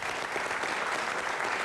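Sustained applause from an audience at a 2001 FTAA summit panel discussion, a dense, even roar of many hands clapping filling the room without pause.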